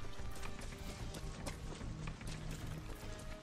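A horse gallops at a steady pace in Far Cry 6, with continuous, dense hoofbeats over loud game ambience that fills the whole stretch without pause.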